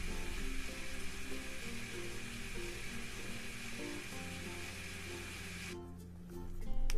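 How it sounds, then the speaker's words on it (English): A blender whirs away mixing a drink of apples and melon in a Minecraft kitchen mod, a steady mechanical hum with a hissing wash that cuts off near the end. "shift and right click, it will start blending because it is a valid recipe in the book here"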